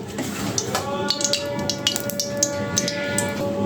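Potato pieces sizzle and crackle steadily in hot oil in a pan, frying ahead of cooking shing fish, with a continuous hiss and scattered sharp pops, close and moderately loud throughout.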